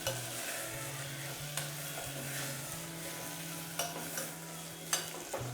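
Khichdi vegetables with black masala are stirred in a hot pan, giving a quiet continuous sizzle broken by several sharp spoon scrapes and clinks, close but fairly soft, with no talking.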